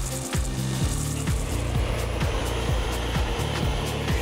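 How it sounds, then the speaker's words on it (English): Belt sander tidying a jeweler's saw cut in a piece of brass, giving a steady loud abrasive grind with a rhythmic motor drone and repeated low pulses throughout. "I tidied up the saw cut on the belt sander"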